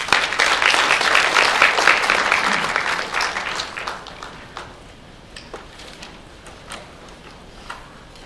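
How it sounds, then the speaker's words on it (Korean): Audience applause at an international forum, full and loud at first, then thinning to scattered individual claps before it fades out. "박수로 받아주시기 바랍니다."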